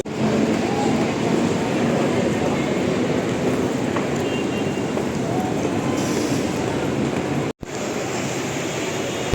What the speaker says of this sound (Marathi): चला आता माझी ट्रेन निघाली गोरेगाव स्टेशनहून बरोबर 7:40ला.